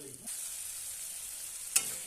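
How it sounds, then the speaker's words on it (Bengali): Spice paste with red chili powder sizzles in a pan for an egg and potato curry, a soft, steady frying hiss with one brief louder crackle near the end. "এবার সামান্য একটু জল দিয়ে মশলাটা কষিয়ে নিচ্ছি।"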